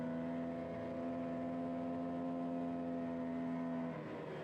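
Racing motorcycle held at high revs in fifth gear on the Phillip Island circuit, a steady high-pitched engine whine that holds level then drops off near the end, somewhat distant and alone.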